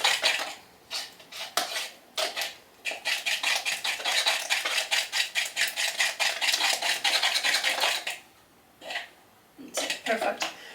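Eggs whisked briskly in a bowl for a keto chocolate waffle batter, a fast steady run of clinking, scraping strokes with short pauses, close and loud.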